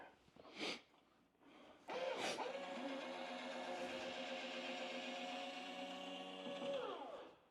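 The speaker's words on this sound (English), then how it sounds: "If you want to extend the gear." Retractable landing gear on a fully assembled Carf Rebel Pro RC jet runs with a steady electric whine and mechanical hum for several seconds, ending in a clunk as the legs lock. Short clicks come just before it starts.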